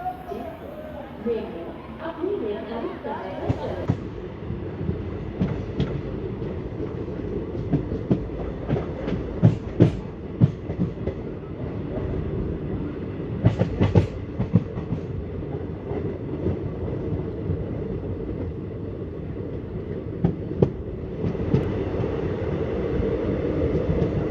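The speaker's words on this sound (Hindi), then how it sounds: "अभी फ़िलहाल मालगाड़ी पास हो रही है" A long freight train rumbles past close by at a railway station platform, with steady clattering of wheels over rail joints and metallic clanks, loud throughout.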